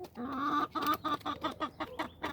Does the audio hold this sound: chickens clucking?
yes